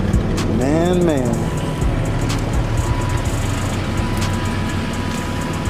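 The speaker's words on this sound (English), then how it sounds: "Sound like my motor trying to tap, but I hope not. Got a little bit of noise to it." A V6 fourth-generation Chevrolet Camaro engine idling with a slight tapping noise and a newly installed exhaust, a steady low rumble with faint ticking, while a person talks over it near the start.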